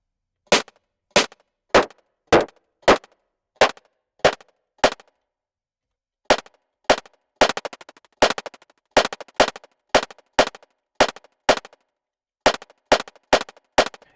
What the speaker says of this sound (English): we can actually pull the transient up. And you can get stuff kind of like that. Rim shots.